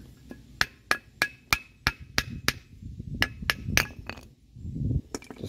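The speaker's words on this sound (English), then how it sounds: "I hammered the first one out." Hammer blows knock a brake pad out of a 2009 Toyota Yaris brake caliper, about ten sharp metallic strikes in a quick rhythm at first, then a few more after a short pause, loud and close.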